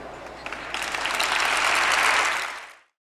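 Applause from an audience at an anniversary event swells from a moderate patter into a full, dense wash of clapping, then tapers and cuts off into silence.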